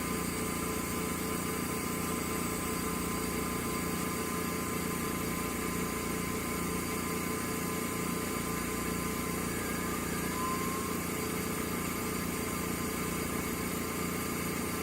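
Laurell WS-400B spin coater motor spinning up from 1,000 toward 2,000 RPM, a steady mechanical hum and whir with a faint rising whine, continuous and close throughout.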